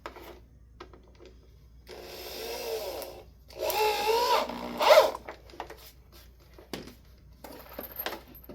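Power drill driving angled screws into wood while building a slanted bench section: two short whirring bursts of the drill, moderately close, between quiet pauses.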